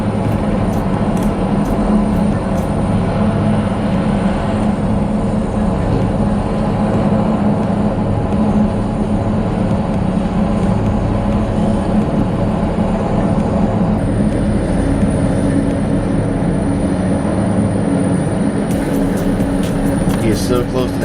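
A helicopter hovers low between buildings and then lifts off to fly away, its steady broadband rotor and engine roar loud and continuous throughout, with faint voices beneath it.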